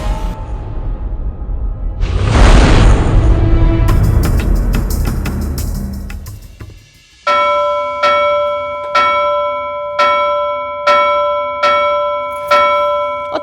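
A bell rings out loudly over a rushing, noisy swell, then a clear bell chimes repeatedly at a steady rhythm, each strike ringing and fading.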